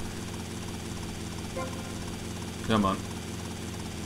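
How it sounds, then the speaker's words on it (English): A Sparrow helicopter flying in Grand Theft Auto Vice City gives a steady, loud rotor and engine drone throughout. A voice speaks briefly over it. "No respite for the helicopter pilot."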